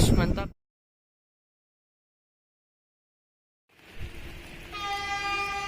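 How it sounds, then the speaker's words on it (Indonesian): A yellow Kelud inspection train on an Indonesian line, running from Bandung toward Garut, sounds a loud sustained horn after a brief burst of noise and a long silence, the train rushing past close by. "Ini akan segera melintas kereta inspeksi Kelut yang dari Bandung tujuan akhir stasiun Garut."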